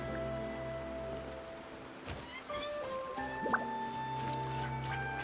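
Water droplets dripping in Genshin Impact, a few light, sparse drips near a cave over a steady humming game music bed, with small splashy plinks scattered across the stretch.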